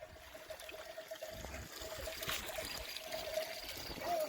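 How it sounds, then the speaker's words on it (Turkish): Water runs steadily from an opened tap outdoors, a continuous soft trickle and splash lasting several seconds, fairly faint and alone with no voices. "Vallahi su açtım lan."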